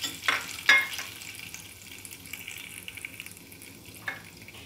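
Ground cumin and coriander powder tipped into hot oil in a frying pan for a mustard-paste fish curry, giving a couple of sharp sizzling bursts at the start, then a low steady crackle with a later brief hiss.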